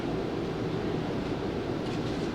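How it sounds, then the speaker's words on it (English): Model railroad train in an operations session, a Louisville and Nashville locomotive pulling away with a steady, close rumbling clatter, continuous and even throughout, no talk. "so that train is now ready to leave."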